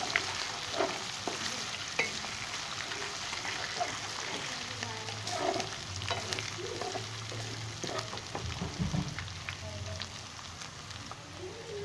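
Ginger garlic paste stirred and fried in a pan for a pumpkin and chana dal curry, giving a steady low sizzle with scraping stirs throughout, fairly faint, with occasional soft talk.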